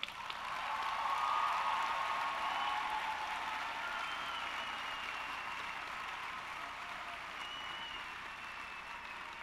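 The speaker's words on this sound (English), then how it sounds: "help me thank, with a rousing round of applause, all of the parents who are present with us today" At a spring commencement ceremony, a large crowd gives sustained applause for the parents present, a broad, even wash of clapping that swells early and then holds steady without letting up.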